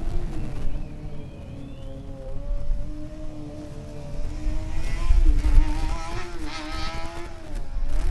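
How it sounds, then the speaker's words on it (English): A Formula Student race car, number 53, restarts its engine during an endurance event. A steady, fairly near engine tone rises and falls in pitch over several seconds, growing louder as it revs, with no talk. "Car number 53 restarts the engine, ready to rejoin this endurance."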